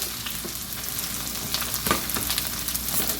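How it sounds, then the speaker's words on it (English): Chopped onion hitting a hot wok for shrimp fried rice, a steady close sizzle and crackle with scattered spits and pops, no voices over it. "We're going to put in our onion."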